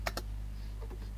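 Several quick keystrokes on a computer keyboard while typing C code, a pair of clicks, a pause, then a sharper tap, close and fairly quiet over a low steady hum.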